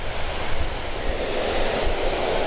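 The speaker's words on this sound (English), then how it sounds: "I hear the water flowing though." Steady rushing water of Brandywine Falls in Cuyahoga Valley National Park roars continuously, a broad even wash of flowing water with no voices, moderately loud and unchanging.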